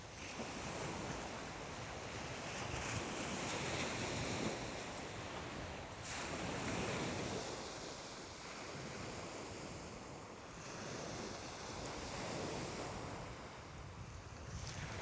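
Steady south-westerly wind at the coast near Bexhill in East Sussex, soft and constant, blending with a low wash of surf throughout.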